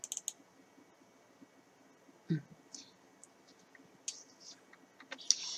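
A computer mouse clicks sharply, a quick run of clicks at the start followed by scattered single clicks, as the camera folder is double-clicked open on a PC.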